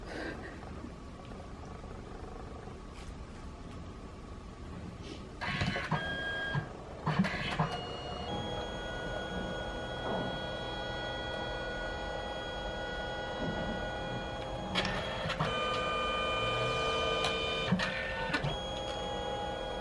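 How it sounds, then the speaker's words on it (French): Inkjet printer laying down a photo in several colour passes, its head carriage whirring back and forth in repeated mechanical bursts with clicks between passes, close and steady with no talking. "Ça y est, je suis une pro de l'imprimante."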